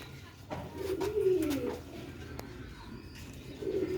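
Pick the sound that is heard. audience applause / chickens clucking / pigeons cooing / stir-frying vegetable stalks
pigeons cooing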